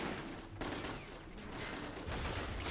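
Dense gunfire and mortar blasts from a Men of War Assault Squad 2 battle between North Korean and Soviet forces at a coastal fort, a continuous crackling fusillade with rattling bursts, moderately distant and steady.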